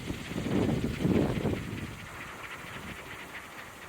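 A small wind turbine with a loose gear cog bolt and no motor connected spins in strong wind, giving a whooshing, rumbling rush that swells loudly early on, then settles into a softer continuous hiss.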